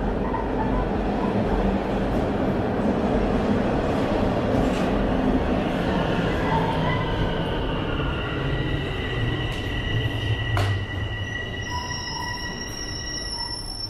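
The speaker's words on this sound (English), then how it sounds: "Northbound train." A northbound Toronto subway Line 1 train runs through the tunnel, a loud continuous roar of wheels and motors with rattling, then a rising electric whine and high squealing tones as it slows.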